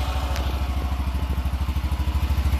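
A small engine idles steadily up close with the choke on, with a fast, regular pulsing thump and light mechanical clatter, no voices.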